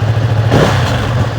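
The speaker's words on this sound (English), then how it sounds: "Standard Ducati sound, innit?" A Ducati Streetfighter V2 motorcycle engine with standard exhaust idles with a deep, throbbing rumble, close by and steady, with a brief swell in the middle.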